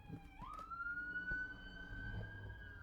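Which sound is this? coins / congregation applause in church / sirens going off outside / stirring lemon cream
sirens going off outside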